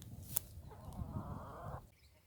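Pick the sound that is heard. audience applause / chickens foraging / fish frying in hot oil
chickens foraging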